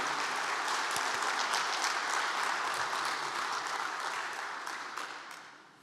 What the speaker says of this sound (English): Let's give one more round of applause for these outstanding young alumni.